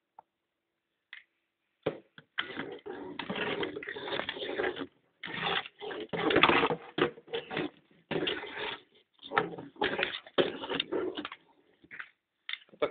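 Battery-powered toy squirrel with a ball, switched on by a button and running on AA batteries, whirring and clattering in irregular close bursts broken by brief pauses.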